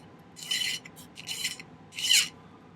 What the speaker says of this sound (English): Let's make sure that these ends are filed pretty good.